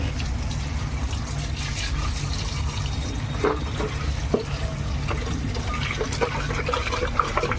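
Turmeric being washed in water at home, with a steady watery swishing and trickling over a low background hum, moderately quiet and continuous, with no talk.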